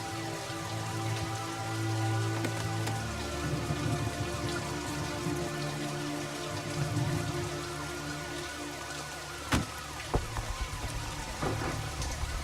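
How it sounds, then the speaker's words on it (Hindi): Monsoon rain in Mumbai falls as a steady, dense patter on surfaces for the whole stretch, with a few sharp knocks and drips standing out late on and no voices. "मुंबई की बारिश कभी भी खत्म नहीं।"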